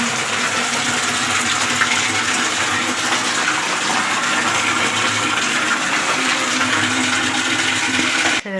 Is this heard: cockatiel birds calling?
no